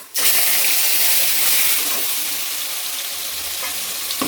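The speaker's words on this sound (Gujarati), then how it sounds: "હવે આપણે ટમેટાની પ્યુરી આની અંદર નાખશું।" Tomato puree poured into a hot pan of oil with cumin, garlic and asafoetida bursts into a sudden loud sizzle that holds steady, then fades slightly as it is stirred.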